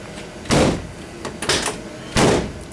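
Door of a 1971 VW bus, whose door switch has been acting up, opens and closes with two loud clunks about 1.7 seconds apart and a lighter rattle in between.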